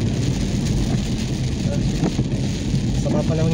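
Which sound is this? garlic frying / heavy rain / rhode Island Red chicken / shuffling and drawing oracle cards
heavy rain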